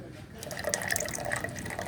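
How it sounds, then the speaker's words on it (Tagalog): Water pours from a tap into a measuring cup in a short, steady trickle with a bubbling, splashing texture, close by. "Lagyan ko siya ng kaunting water."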